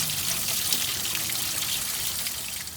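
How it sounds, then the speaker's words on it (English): Water from a garden hose runs steadily through a 1999–2004 Ford Mustang radiator being flushed with the lower radiator hose disconnected, a continuous close splashing trickle with no talk. "I have radiator hose disconnected down at the bottom, and I'm just going to flush it out real good."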